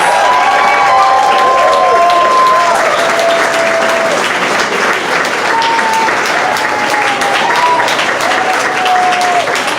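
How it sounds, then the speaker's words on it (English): Loud, sustained audience applause fills an awards ceremony hall, with cheering and a few high whoops rising above the dense clapping for nearly ten seconds. "Please give her a big round of applause."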